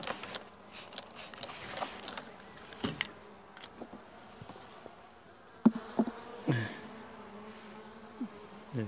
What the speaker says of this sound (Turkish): arılar hemen gelmişler